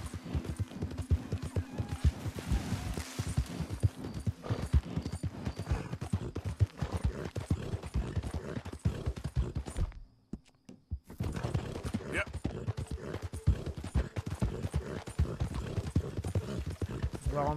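Horse hooves clip-clop steadily in Red Dead Redemption 2 on PS4 Pro, a dense rhythmic trot lasting throughout apart from a brief silent gap midway, with someone talking over it.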